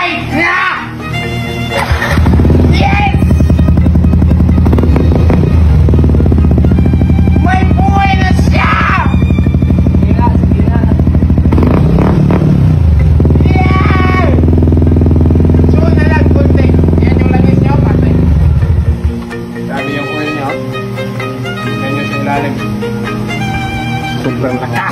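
A Yamaha NMAX scooter fitted with an aftermarket exhaust starts up and revs hard, a loud sustained drone with rising and falling throttle blips, with people talking and shouting over it before it settles to a lower idle.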